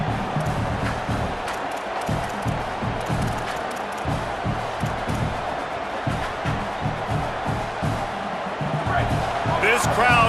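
Stadium crowd in an EA Sports College Football video game, a steady broad roar sustained under continuous play-by-play commentary, swelling slightly louder near the end.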